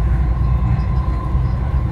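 A train passing close by at Expo 2020 Dubai, a loud continuous low rumble and rolling hum that holds steady throughout.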